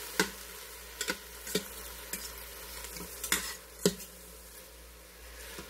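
Onions fry in a pan with a soft background sizzle, punctuated by a series of crisp utensil scrapes and taps at irregular intervals.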